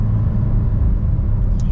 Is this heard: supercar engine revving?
yes